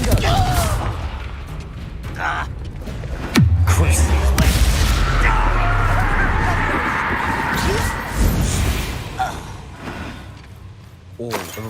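Confringo fire spell explosion in Hogwarts Legacy: a sudden loud boom followed by a long, roaring fiery rumble amid combat clatter, with voices and creature cries around it.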